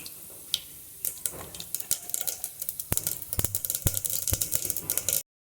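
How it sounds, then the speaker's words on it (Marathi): Mustard seeds tempering in hot oil in a home kitchen, popping and crackling in a dense run of sharp, irregular snaps that start sparse and grow thicker over several seconds before cutting off abruptly. "आपलं गरम झालं आहे, मोहरी टाकते फोडणीसाठी।"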